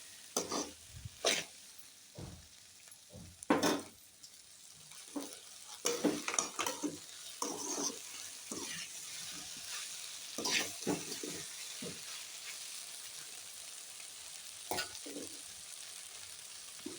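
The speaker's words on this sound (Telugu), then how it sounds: "వీడియోలో చూపిస్తున్న విధంగా కలబెట్టుకుంటూ బాగా ఫ్రై చేసుకోవాలండి." Okra frying in a pan while being stirred, with repeated spatula scrapes and clatters over a soft sizzle, close by, with a cough-like sound partway through and no clear talking.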